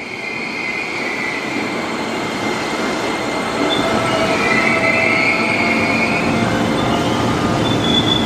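A KRL commuter train, a Japanese-built TM 6000 series unit from 1971, rolls through Depok station, loud and close with a rumbling roar, rail clatter and faint wheel squeal throughout.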